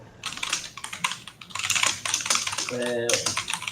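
Keyboard typing picked up on an open microphone during a live online maths class, a steady run of close clicking keystrokes with a brief tonal beep near the end.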